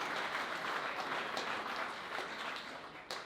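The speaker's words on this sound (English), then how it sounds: "Let's give ourselves a round of applause for that." An audience at a 20th anniversary charity event breaks into sustained applause, a dense wash of many hands clapping that thins slightly toward the end.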